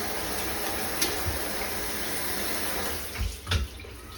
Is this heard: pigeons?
no